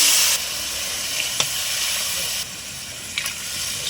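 Water poured into a pan of oil-fried rice for cauliflower pulao, a hissing steamy rush that is loudest at the start and then settles into a steady sizzle, with a couple of faint clinks.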